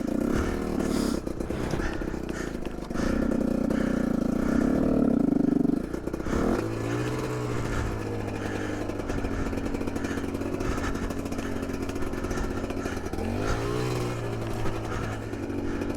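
A 2021.5 GPX TSE250R motorcycle fitted with a new Keihin PWK 38 carburetor runs close up, its engine droning and rising and falling as it revs, with clatter and wind rush throughout the ride.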